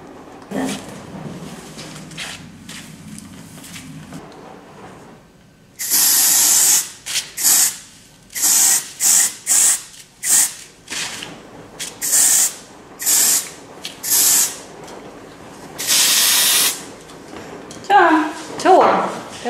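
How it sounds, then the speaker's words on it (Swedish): Hairspray from a can at a hairdresser, a run of loud, close hissing bursts of varying length, with quiet talk in the gaps. "Typ en hel sprayburk, det där."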